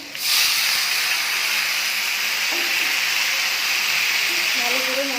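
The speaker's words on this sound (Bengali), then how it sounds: "পেঁয়াজটা ভালো করে ভেজে নিয়েছি এবার দিয়ে দিচ্ছি বেঁধে রাখা মশলাটা" Spice paste dropped into a pan of fried onions for a Bengali red lentil dish, giving a loud, steady hiss and sizzle that runs continuously from start to finish.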